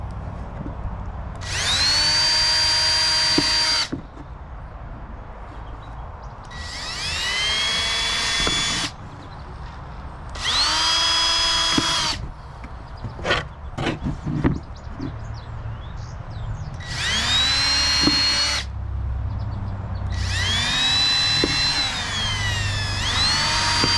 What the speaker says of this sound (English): now I'm going to drill me some holes for my screws